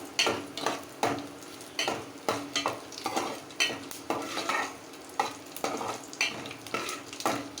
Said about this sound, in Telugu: పోపులు వేసుకొని బాగా వేపుకోవాలి